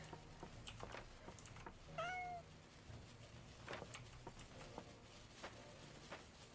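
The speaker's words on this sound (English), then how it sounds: "Heard you, kitty cat. Where are you?" A cat meows once, briefly and fairly close, over a quiet room with faint scattered taps and rustles.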